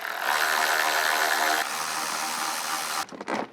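A power driver with a T20 Torx bit backing out screws on a car's steering angle sensor, a loud steady motor whine that shifts pitch partway through, then stops, followed by brief handling sounds.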